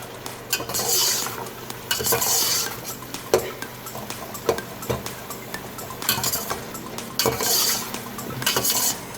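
A pot of tomatoes cooking for matar pulao, heard up close as metal clinks and scrapes of lid and spoon over a soft sizzle, repeated in short bursts, no talking.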